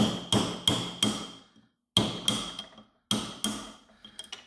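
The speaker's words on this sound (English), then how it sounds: "So now I have a chisel and a little ball peen, and I'm going to see if I can extract." A chisel struck with a small ball peen hammer knocks wedges out of an axe head, three bright, ringing metallic strikes in quick succession, then a pause, repeated in close, loud groups.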